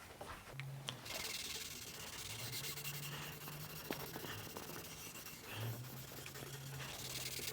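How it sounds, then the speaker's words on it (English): Sandpaper rubbing back and forth over a spot on a dyed guitar body being given a road-worn finish, a steady close scratchy hiss with short strokes and brief pauses. "and then I'll just resand that spot, and then I'll put some fresh color on there"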